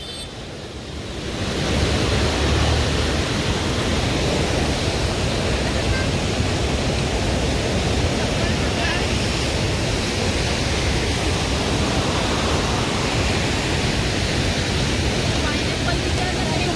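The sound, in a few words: waterfall in Shillong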